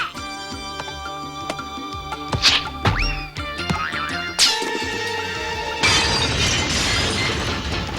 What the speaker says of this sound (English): Mama's favorite lamp. Smashed all to bits.